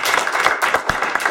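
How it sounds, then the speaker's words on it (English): Audience applause at a Greater Portland mobility tech challenge event: a dense, steady patter of many hands clapping at once, sustained and fairly loud throughout. "A round of applause, please"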